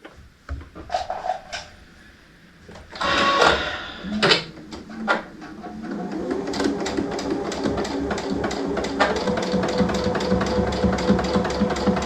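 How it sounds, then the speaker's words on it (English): A domestic sewing machine stitches a pillowcase: a few clunks and handling knocks at first, then a steady, rapid mechanical chatter that runs continuously at close range, with no talking. "now she's sewing"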